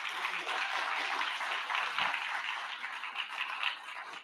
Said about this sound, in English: let's give Dr. Kim a big round of applause.